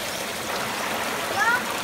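Water flows steadily in a shallow stream while people search for driftwood, a constant close rushing and trickling wash with a brief faint high chirp near the end.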